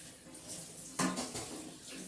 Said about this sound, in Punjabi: ਆਪਾਂ ਹੁਣ ਕਰਦੇ ਹਾਂ ਰਸੋਈ ਦੀ ਸਫਾਈ ਤੇ ਨਾਲੇ ਦੇ ਭਾਂਡੇ